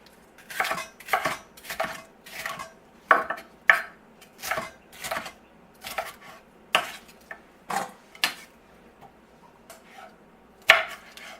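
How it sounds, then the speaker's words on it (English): Knife chopping red and green bell peppers into bite-sized pieces for a bean-free meat chili: a dozen-odd crisp, close thuds on a cutting board at an uneven, quick rhythm, with no talking. "Just quick chop, bite-sized pieces."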